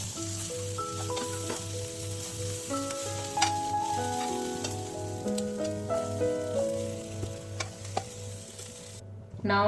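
Paneer tikka pieces sizzle steadily on a hot tava, a dense continuous frying hiss with a pulsing low hum underneath, near and even throughout, cutting off abruptly at the very end.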